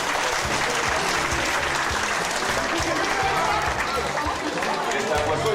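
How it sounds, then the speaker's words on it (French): Sustained applause from an audience fills the whole stretch, dense and steady with a faint murmur of crowd chatter mixed in. "On peut les applaudir, hein, ça a été vite."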